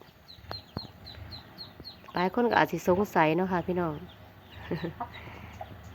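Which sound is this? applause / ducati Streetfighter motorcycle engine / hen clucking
hen clucking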